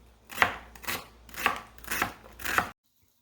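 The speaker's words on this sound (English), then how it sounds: "While your stew beef is browning, cut up your carrot, celery, and onion." Knife chopping carrot, celery and onion on a cutting board for a slow cooker chili, five close, crisp cuts in an uneven rhythm, then it stops abruptly.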